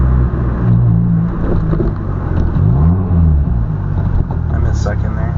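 A manual car's engine drones loud and close, its pitch rising and falling as gears are upshifted without using the clutch, with a steady rumble throughout.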